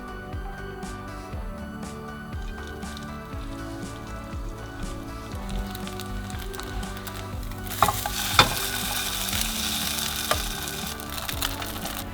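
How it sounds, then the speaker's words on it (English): Pressed homemade cheese fries in hot olive oil, giving a steady close sizzle with a louder burst of crackling and spitting partway through. "frying it in some hot olive oil"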